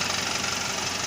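A BMW E90 engine with a suspected crankshaft bearing fault knocks steadily, a loud continuous mechanical clatter heard close up with no talking.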